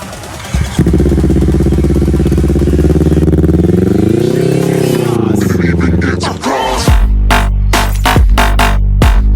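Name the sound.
Kawasaki Z250 motorcycle engine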